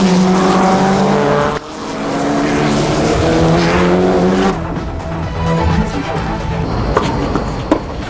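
Racing cars at a motor racing meet in Sri Lanka roar loudly with steady engine drone and shifting pitch, a brief dip partway through, then continued engine noise.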